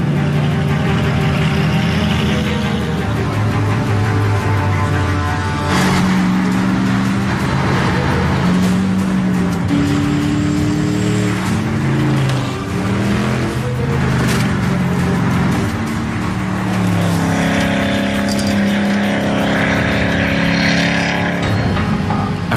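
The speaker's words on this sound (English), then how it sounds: "They have a nervous wait, while a prospective owner takes the car for a spin." Gumpert Apollo Enraged sports car on a test drive, its engine droning steadily and loudly throughout with shifting pitch as it accelerates, no talk.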